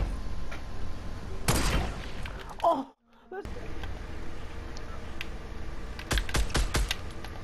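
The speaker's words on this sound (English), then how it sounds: "Someone's shooting Daniel" Gunfire in the Fortnite video game, with a dense burst of rapid shots early and another volley near the end, over game ambience, keyboard clicks and excited voices talking.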